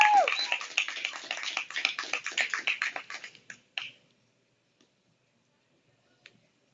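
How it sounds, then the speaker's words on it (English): An audience at a spoken word poetry night claps in a quick, close burst that thins out and fades away after about four seconds, leaving silence with a couple of faint ticks. "Y'all give a round of applause."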